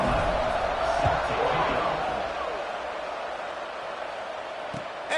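Football stadium crowd at a UAB game just before a kickoff, a broad steady wash of crowd noise at moderate level, slowly easing, with a sharp thud at the end.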